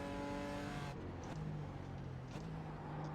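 A heavy GT4 race car in iRacing at Road Atlanta roars steadily, its engine note dropping as it shifts and then holding a low drone, with faint tire scrub underneath and no voices.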